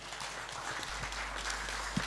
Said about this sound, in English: Please give applause to our panelists